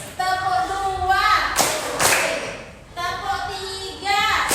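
A classroom of students in an Indonesian teaching-practice lesson claps in a call-and-response counting chant, with sharp broadband claps between stretches of a teacher's and pupils' voices.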